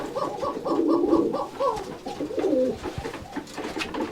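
Rajshahi Giribaj pigeons coo in a breeding room, close and clear, a steady run of soft throaty rolling calls that pause briefly and then resume, with no one talking.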